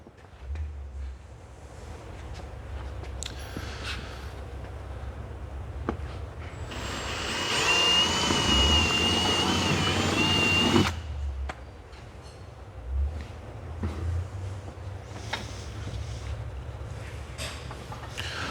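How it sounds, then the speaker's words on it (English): A power drill with a 1/4-inch bit, drilling holes for a tree bar install on a Can-Am Maverick X3, whines steadily for a few seconds, loud and close, with quieter workshop noise before and after. "use the 1/4-inch drill bit to get your outer hole started"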